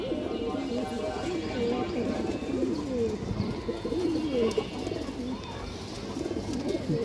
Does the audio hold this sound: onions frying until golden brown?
no